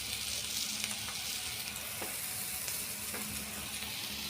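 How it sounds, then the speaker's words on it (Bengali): Potato slices for alu botboti fry in a pan at home, giving a steady, even sizzle throughout with a few faint clinks, and no one speaks over it. "এটা আলু বটবটি ভাজা।"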